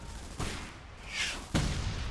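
Gunfire and tank cannon shots in the video game Frontlines: Fuel of War, two loud broadband blasts about a second apart over a low rumbling battle bed, with no talk.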